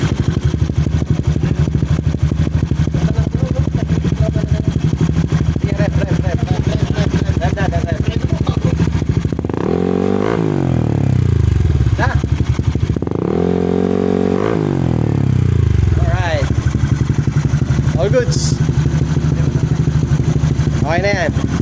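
A Yamaha Aerox V2 scooter engine idles loudly and close with a steady buzzing drone, then is revved twice in rising and falling swells before settling back to idle, while people talk nearby.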